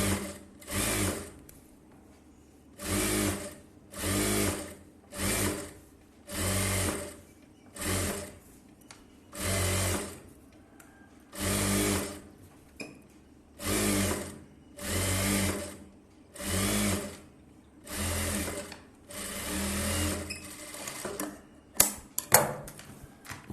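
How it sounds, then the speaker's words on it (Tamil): Sewing machine running in about a dozen steady bursts of a few seconds each, stitching blouse fabric up close, with brief pauses between runs and a few clicks at the end. "இப்போ நான் சும்மா ரஃப்பாக தையல் போடுறேன்"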